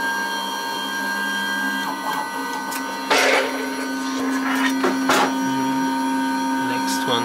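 A CNC 6040 machine drives its axes toward the reference limit switches, a steady whirring stepper-motor whine with pitch shifts as each axis moves, plus a few short clicks and rattles partway through.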